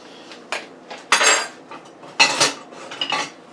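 A utensil stirring pot roast ingredients inside a Power Pressure Cooker XL, giving several sharp metallic scrapes and clinks against the pot in an uneven rhythm, close and fairly loud.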